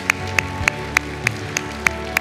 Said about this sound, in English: Now give Jesus a hand clap of praise.